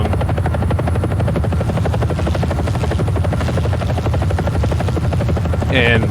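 A helicopter in a ground realistic battles video game drones steadily with a loud, continuous rotor thump and engine buzz, near and unbroken, with a brief high electronic chirp near the end.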